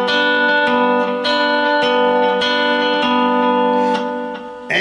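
Lap steel guitar played with a bar, finger and pick, skipping over to strings 3 and 4: sustained, ringing two-note chords with repeated plucked attacks, played close and alone.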